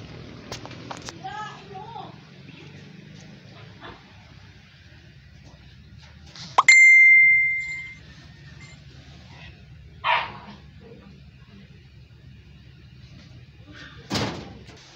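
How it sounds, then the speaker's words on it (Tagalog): A dog barks in a few short bursts at moderate distance against a quiet room background, with a sharp knock or slam and a brief tone in between. "Yan po yung aso ko."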